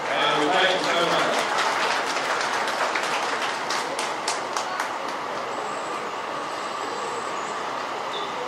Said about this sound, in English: So let's give all these rounds of applause for the support